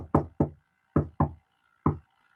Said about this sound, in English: unless there's a special ring on the bell, which is 3 knocks, 3, 2, 1